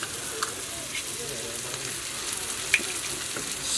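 An omelet of eggs, zucchini, onions, carrots and mushrooms frying in a pan aboard a sailboat, producing a soft steady sizzle with a few faint clicks, fairly quiet and even throughout.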